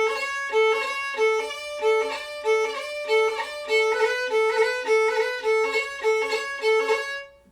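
Flute playing a lilting phrase ornamented with single cuts, quick blips breaking up repeated notes in a steady rhythm, clear and close with no talk.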